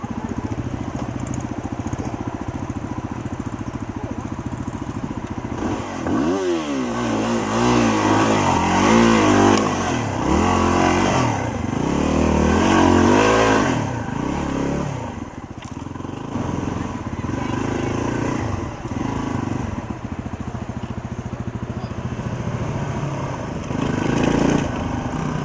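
A motorcycle engine on a learner's ride near Fairbanks, Alaska, a continuous drone that revs and warbles up and down through the middle stretch, with voices talking over it.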